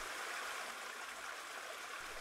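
Narrow stream flowing through Fern Canyon, a wet slot canyon with 50-foot fern-covered walls and miniature waterfalls; steady, soft rushing water with continuous gurgle, fairly faint and even, no voices.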